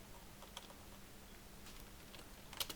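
Soft, quick keystrokes on a computer keyboard while typing a name into a Word document, faint, irregular clicks over low background hiss.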